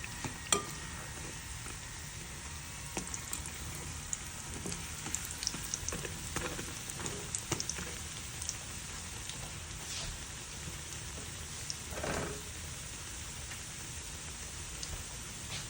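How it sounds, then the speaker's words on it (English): Fried dumplings cook in oil over low heat, a soft continuous sizzle and crackle with scattered pops and a louder burst near the end, and no voices. "the fried dumpling doesn't take long to cook. Just put it on a low fire and it brown really quick"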